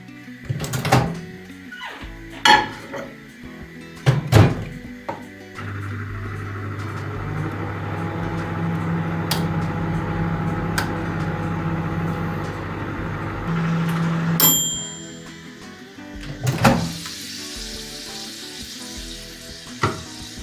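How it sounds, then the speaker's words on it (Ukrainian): A microwave oven heating pork fat hums steadily for several seconds and then gives a short beep, with clattering and handling noises before and after. "кладу в мікрохвильовку на 10 хвилин"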